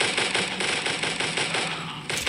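Rapid automatic gunfire rattles steadily in the mobile shooter game Guns of Boom, loud continuous bursts with no talking.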